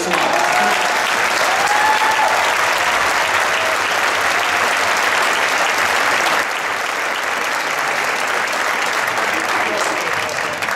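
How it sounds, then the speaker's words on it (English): A large audience applauds after a youth orchestra performance, a loud, dense, unbroken wash of clapping that holds steady for the full stretch, with a faint voice briefly audible early on. "so we're going to applaud again"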